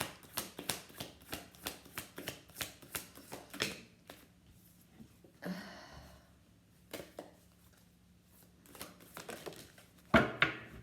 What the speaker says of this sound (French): Mais je vais quand même vous tirer une carte.